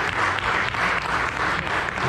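Sustained audience applause in a Spanish-speaking church service, a dense steady clapping from the congregation that swells slightly in waves throughout, with faint voices mixed in.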